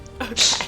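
A single short sneeze bursts out close and loud, followed by a brief voice.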